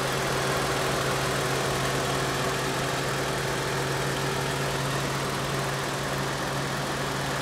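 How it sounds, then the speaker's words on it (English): A 2015 Toyota Sienna's 3.5-liter V6 idles steadily, giving an even, smooth, continuous hum with a low drone and no revving, close and alone. "Pretty smooth running engine."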